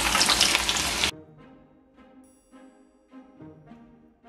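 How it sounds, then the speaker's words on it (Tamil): Sliced onion fries in hot oil, turning light golden brown, with a loud, dense sizzle for about a second that then cuts off, leaving faint tonal sounds. "இந்த வெங்காயம் லைட்டாக கோல்டன் ப்ரௌனாக பொரிஞ்சு வருது"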